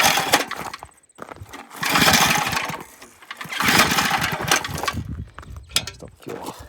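A small Brutus lawn roller's engine being started, bursts of rough cranking and revving that rise and fall several times, close and loud.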